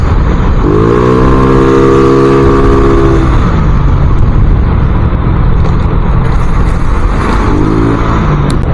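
A motorcycle engine, fitted with modified torsion control and clutch springs, roars at full throttle during a top speed run, a loud continuous drone with heavy wind rush, briefly shifting pitch.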